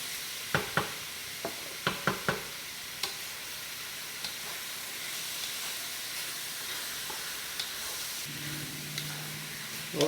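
Cashew chicken stir-frying in a wok, a quiet hiss with a run of crisp stirring clicks early on and a louder rush of sizzle near the end, no talking.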